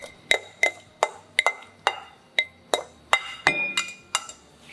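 Boiled bitter gourd and mushrooms tipped into a glass mixing bowl, giving about a dozen sharp glassy clinks and taps in uneven rhythm, close and clear with quiet gaps between.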